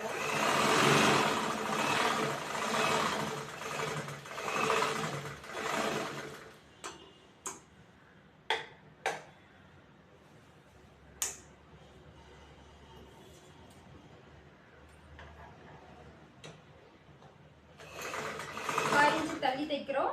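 A sewing machine stitches a blouse with brief rapid whirring runs and sharp clicks, set between stretches of someone talking in Tamil, fairly close and moderate in level.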